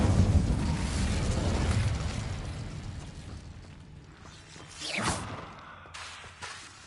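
Incendio fire spell cast in Hogwarts Legacy: a loud roaring burst of flame up front that fades into a rumble, then a sharp sweeping whoosh and a small pop near the end.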